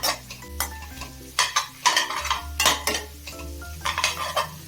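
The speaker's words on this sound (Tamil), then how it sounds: "இந்த வெங்காயத்தை ஒரு 2 நிமிஷத்துக்கு வதக்கிக்கலாம்" Chopped onions being sautéed in a pan for chicken fried rice, with repeated clanking of a metal spatula against the pan in uneven bursts over a faint sizzle, close and fairly loud.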